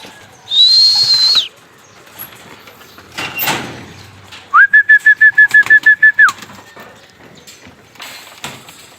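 Homing pigeons, including a blue bar, arrive during summer training amid soft wing flaps and bird calls, then a rapid, loud run of about ten repeated whistle-like chirps, with quiet gaps between.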